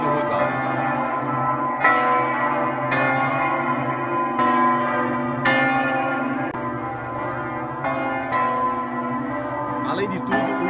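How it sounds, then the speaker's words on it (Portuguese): Church bells at Igreja do Rosário ring loudly and solemnly, with evenly spaced strikes whose long, rich overtones keep humming between the blows. "os sinos começam a tocar com essa sonoridade solene"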